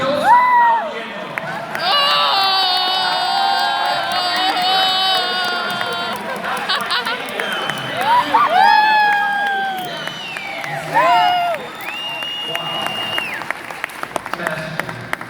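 An audience applauds and cheers in a large hall, a dense, sustained wave of clapping with whoops and shouts rising and falling for about fifteen seconds, with a few high whistle-like cries cutting through.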